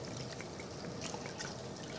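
Water poured into a pot of beef osso buco with tomato, bay leaf and thyme sprigs, a steady splashing trickle close by.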